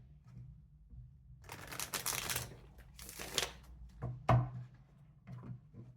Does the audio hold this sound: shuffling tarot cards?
yes